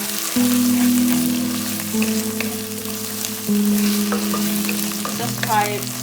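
Green chilies fry in hot oil for chilli chicken, a loud steady sizzle with a constant hiss, while a low electrical or burner hum drones underneath throughout.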